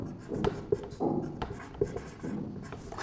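Marker strokes writing a word on a board, a series of short scratchy squeaks and taps in irregular bursts, close and fairly quiet, with someone talking softly at times.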